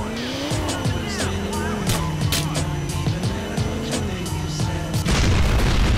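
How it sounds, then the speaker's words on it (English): Video game sound from Grand Theft Auto: The Ballad of Gay Tony: roaring engines and squealing tires fill the scene, punctuated by repeated booms, ending in a louder burst of noise like an explosion. "another nice explosion."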